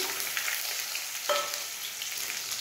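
Dry fruits frying in a pan for zarda, a sweet Mughlai rice dish: a soft continuous sizzle with a brief stirring scrape partway, close and quiet, no talking.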